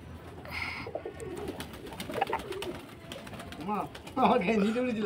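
Pigeons cooing close by, soft repeated warbling calls rising toward the end, with people talking over and around them.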